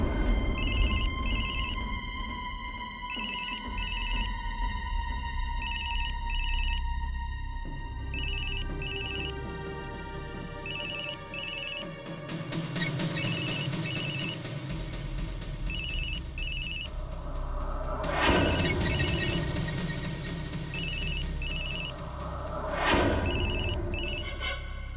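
A telephone rings in regular paired bursts again and again, clear and close, with faint background music and no talking.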